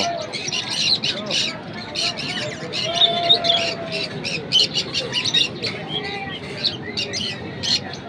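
White pigeons and other caged birds at a weekly Friday bird market in Vadodara produce a busy stream of close chirps and squawks while people talk nearby.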